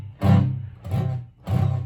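Three dull, muted guitar strums on a chord fretted with flat fingers, each a short thud with little ringing sustain, close and moderately loud.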